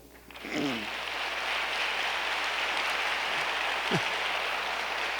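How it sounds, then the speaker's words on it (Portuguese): An audience at a talk breaks into applause, a steady wash of clapping that rises quickly and holds at a moderate level, with a faint hum underneath. "Pode aplaudir."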